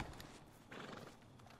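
A horse in the video game Red Dead Redemption 2, with hooves clopping and a short whinny rising midway, heard fairly close over a steady game background.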